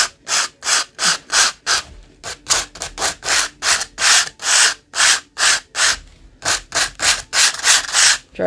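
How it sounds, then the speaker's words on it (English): Sandpaper rubbed gently across the pages of a coloring book, a close series of quick rhythmic scratchy swipes, one after another with brief pauses. "all you do is just take your sandpaper and gently just"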